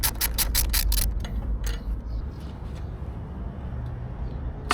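Bolts being loosened from the fuel tank mounts of a Yamaha FZ6 motorcycle, a quick run of close ratchet clicks at the start followed by a few scattered metallic taps and rubs over a low hum.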